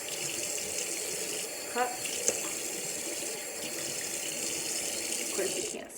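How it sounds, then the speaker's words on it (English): Warm tap water runs steadily from a faucet while a face is rinsed at a sink, a constant close, loud splashing hiss with a few brief knocks and a voice heard briefly. "I'm gonna rinse it off"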